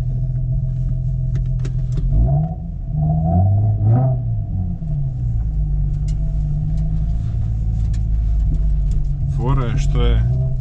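Nissan 350Z engine picked up by a microphone placed inside the exhaust, a steady low droning rumble with rising and falling revs, while someone talks over it.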